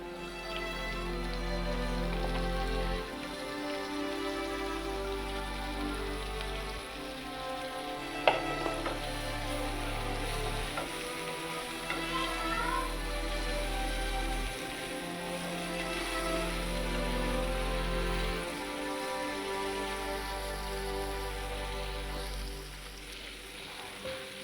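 White parts of spring onion fry in a pan with a steady, moderate sizzle, broken by periodic stirring and scraping sounds and a single sharp clink midway, without talk.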